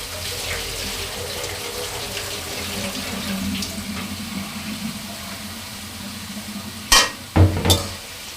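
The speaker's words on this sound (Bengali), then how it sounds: "আলুগুলোকে ভালো করে ধুয়ে নিচ্ছি।" Potatoes washed under a running kitchen tap, a steady close rush of water splashing into a sink, ending with a few louder knocks and splashes as they are handled.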